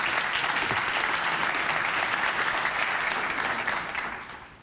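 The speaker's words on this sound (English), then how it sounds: "Please give all our sponsors a round of applause." Sustained applause from an audience, steady and full for several seconds before tapering off slightly at the end.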